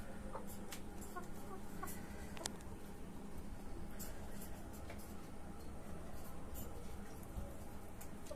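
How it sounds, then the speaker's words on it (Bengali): A rooster on a rooftop poultry farm clucks in short bursts over a dense, constant outdoor background of other fowl and hiss. "এটা আপনার অনেক পছন্দের মোরগ"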